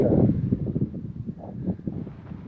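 Wind blowing across an open prairie trail, loud, gusty buffeting on the microphone that is strongest at the start and then rumbles unevenly, with no talking.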